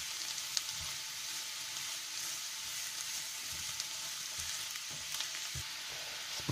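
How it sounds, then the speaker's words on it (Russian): Carrots frying and being stirred in a pan while preparing a zucchini and mushroom stew, giving a steady close sizzle with occasional soft scraping knocks of the stirring utensil, no voices. "Добавляем морковь и все то, что хорошенько перемешиваем"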